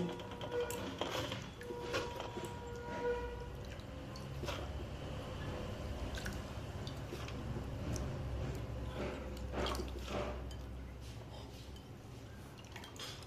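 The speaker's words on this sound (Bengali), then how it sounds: "আমি এবার আলুগুলোকে ছেঁকে এই স্ট্রেনারের মধ্যে দিয়ে দেব।" Soaked potatoes tipped into a strainer in a home kitchen, with dishes clinking, water dripping and splashing, and faint wet shuffling against a steady low background.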